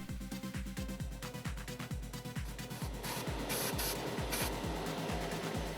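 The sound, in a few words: Aztek airbrush spraying enamel paint on a model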